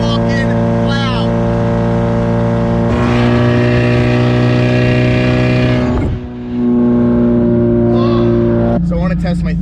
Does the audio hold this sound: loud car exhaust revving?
yes